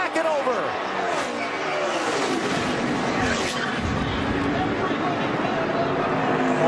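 NASCAR stock cars in a racing wreck, with loud roaring engines sweeping in pitch and rough skidding noise as contact is made, all under excited commentator talk.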